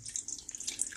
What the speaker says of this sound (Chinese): 我们呢，就再从边边那边倒水进去